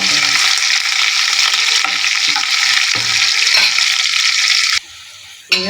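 Onion and curry leaves frying for mutton sambar, a loud continuous sizzle with occasional stirring scrapes that abruptly drops to a quieter hiss near the end.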